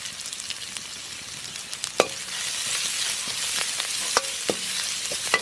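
Ginger and garlic fry in hot oil in a pan, a steady broadband sizzle with sharp spoon or spatula knocks against the pan at irregular moments as the mix is stirred; no talking.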